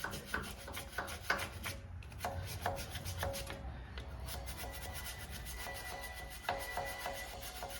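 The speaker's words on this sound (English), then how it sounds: "I've got a little bristle brush just to kind of get the debris out of the way" Bristle brush scrubbing debris off a quad-piston front brake caliper on a 2015-2020 GMC Canyon or Chevy Colorado, a quiet series of rough scratchy strokes in an uneven rhythm.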